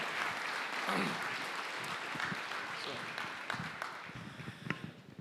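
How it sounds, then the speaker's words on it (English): An audience applauds Commissioner Rodriguez at a city State of the City event, a dense steady wash of clapping that tapers off toward the end, with some voices mixed in underneath. "Let's give him a round of applause."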